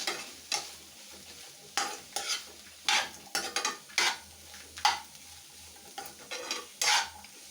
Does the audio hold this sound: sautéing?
yes